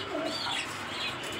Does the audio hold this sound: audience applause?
no